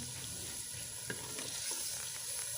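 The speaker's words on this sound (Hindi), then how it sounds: "चिकन को अब हमने 10 मिनट अच्छी तरह से भून लेना है।" Chicken and tomatoes frying in a clay pot for a chicken and turnip curry, a soft, even sizzle with a few stirring scrapes and one sharp knock, quiet and close, no talking.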